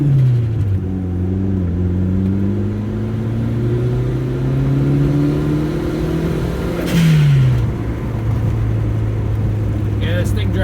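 A car with a homemade 3-inch-pipe cold air intake and a repaired charge system drives fast, its engine droning loudly with rising pitch through the gears, a brief shift dip, and steady road rumble throughout.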